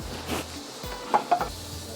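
A kadhai set down on a kitchen stove gives a few soft metallic knocks and clatters, moderately close, two sharper contacts near the end, with no one talking.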